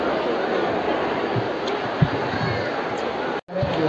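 Dense crowd hubbub at the food stalls of Pune's Bhimthadi fair, a steady, loud wash of overlapping voices and movement with no single speaker standing out.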